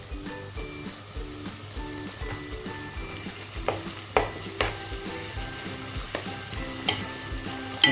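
Ginger garlic paste fries with curry leaves in hot oil, making a steady sizzle under rhythmic, repeated scraping and knocking of a spoon stirring the pan, with no voices.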